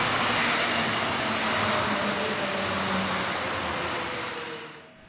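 A Tokyo Monorail train hums with a steady motor whine over broad rolling and rushing noise, loud and close, then fades away near the end.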